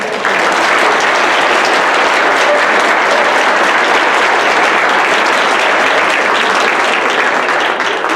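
Audience at an 8th grade school awards night applauds continuously, a loud, dense, even roar of clapping from a large crowd without any talk over it.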